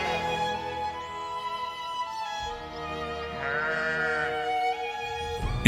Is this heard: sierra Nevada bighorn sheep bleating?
yes